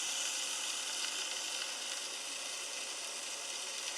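Chicken browns in a frying pan with a steady, quiet sizzle and hiss that carries on evenly, with no voices.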